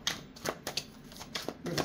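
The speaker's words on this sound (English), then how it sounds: "Let me see if I can get a good shuffle here now." Tarot cards being shuffled by hand in a reading, giving a run of close, crisp riffling and slapping bursts in quick irregular rhythm, alone with no talk.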